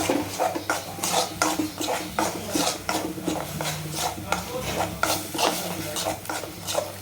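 Channa masala being stirred in a pan, a spoon scraping and clinking against the metal in a steady repeated rhythm over a soft sizzle, close and continuous, with no voices.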